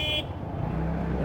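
On a busy street crowded for a local fair, a vehicle horn blares briefly at the start, then the steady rumble of passing traffic and engines carries on.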